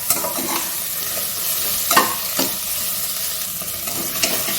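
Goat fat pieces and onion fry in a pan with a constant loud sizzle, while a spatula scrapes and stirs at intervals.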